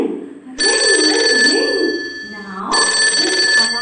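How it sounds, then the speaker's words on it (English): A ringing alarm clock sounds in two loud, bright bursts separated by a short pause. "Now this alarm clock started ringing exact at 6 o'clock."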